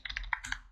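Keystrokes tapped out on a computer keyboard while entering a domain query, a quick run of distinct clicks with a slightly louder strike near the middle, close and clear with no talking.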